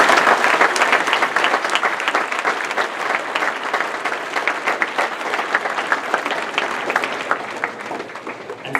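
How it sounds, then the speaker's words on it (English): Sustained applause from an audience at a school event, dense and steady, filling the whole stretch at full strength without a break. "Let's give them a round of applause."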